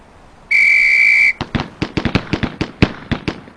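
A sharp, steady referee-style whistle blast lasting close to a second opens a Police Quest SWAT firearms drill, followed right away by a quick run of about a dozen loud, sharp gunshots in rapid semi-auto bursts.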